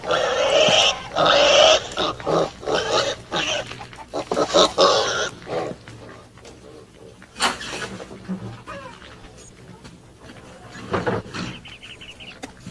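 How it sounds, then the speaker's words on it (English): A pig on a porch in a western film, grunting and squealing loudly in bursts up close, then quieter grunts follow, with a voice speaking partly over it. "All right, get from here, you pig."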